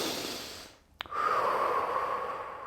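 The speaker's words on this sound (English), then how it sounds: "Keep breathing deep and smooth." A deep, smooth breath during a prenatal yoga session: a long, steady exhale, then a sharp snort-like catch and a sustained airy inhale, close and alone.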